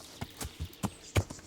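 Horse hooves clip-clop along a pine forest path in the video game Kingdom Come Deliverance, five or six distinct, fairly close steps at an easy walking rhythm.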